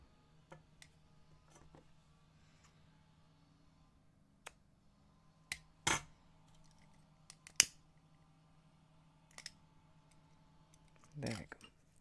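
Scissors snip through crochet yarn on a finished cuff bracelet: a few sharp, separate clicks and cuts spaced across a quiet room, fairly close but soft overall.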